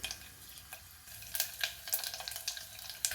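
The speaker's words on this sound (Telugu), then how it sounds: "తాలింపు పేగింది" Spices, including asafoetida and turmeric, crackling and sizzling in hot oil for betel leaf rasam, faint at first, then sharp popping bursts grow denser and louder.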